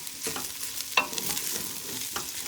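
Garlic stirred into rice and lamb in a hot pot, soft close scraping and stirring over a gentle sizzle, with a few distinct strokes and a faint clink.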